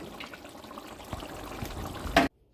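Pangas fish curry being ladled into a serving dish: a steady wet, liquid pouring and trickling texture with faint clinks, building to a brief louder scrape or splash just before it cuts off.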